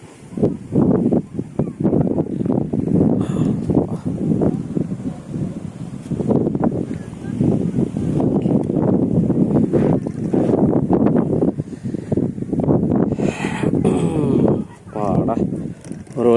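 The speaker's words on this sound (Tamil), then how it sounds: "மலை மேலே ரொம்ப காற்றடிக்குது" Strong gusting wind roars across the microphone on the hilltop of Veerabhadra Durgam fort near Krishnagiri, loud and continuous, with a voice speaking over it.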